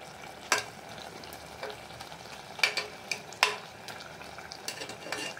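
A spoon stirs chicken gravy with ghee in a pot, with sharp metallic scrapes and clinks at irregular intervals over a low, soft sizzle, close and fairly quiet.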